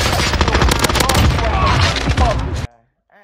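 Dense rapid automatic gunfire in Call of Duty Warzone, loud and close with booming impacts, continuous bursts that cut off abruptly near the end, followed by brief quiet.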